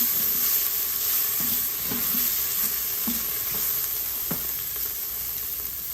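Tomato paste frying in an Instant Pot alongside salt and black pepper, a continuous loud sizzle with soft, irregular scraping and stirring taps throughout.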